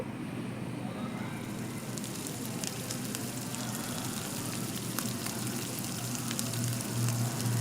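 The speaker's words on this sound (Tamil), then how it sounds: "வெங்காயம் தக்காளி பச்சை மிளகாய் மட்டன் எல்லாம் சேர்ந்து நல்லா வதங்கணும்" Mutton, onion, tomato and green chili sautéing for a mutton kuzhambu give a steady, soft sizzling crackle with scattered pops, faint and continuous with a low hum beneath.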